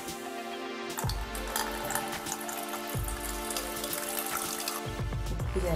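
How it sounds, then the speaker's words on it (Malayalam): Water poured into a pot of Kerala-style rasam with tamarind water and curry leaves, a steady splashing pour with a few pauses and restarts, close and fairly loud, with no voices. "നമുക്ക് ആവശ്യത്തിന് വെള്ളം ചേർത്ത് കൊടുക്കാം."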